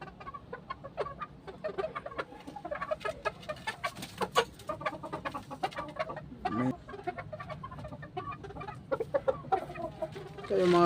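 Several chickens cluck and squawk continuously, overlapping calls close by, with a farmyard background and no talking.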